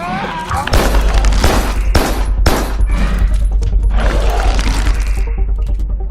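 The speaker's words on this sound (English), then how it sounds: "Every shot coming from a gun has power behind it, and you can hear every bullet when it hits the floor." Enemy gunfire in the video game Carrion: a loud, dense burst of overlapping shots and booming impacts that rattles on for several seconds with little pause.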